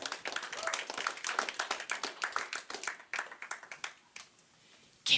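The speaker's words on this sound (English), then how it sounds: "Keep clapping." A small comedy-club audience claps for a stand-up comedian, dense steady applause that thins into scattered claps before trailing off.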